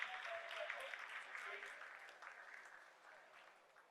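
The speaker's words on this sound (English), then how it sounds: "Lot of applause" Steady applause fills a room as people celebrate the Chandrayaan 3 lunar landing, a dense, continuous clapping that slowly fades over a few seconds, heard from a moderate distance with faint voices mixed in.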